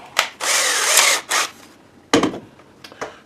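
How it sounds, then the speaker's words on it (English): A power drill pre-drills a hole in a plastic jug, whirring loudly in a sustained burst, then a few shorter bursts and grinding scrapes follow, close by. "take a smaller drill bit and pre-drill before you use that big drill bit"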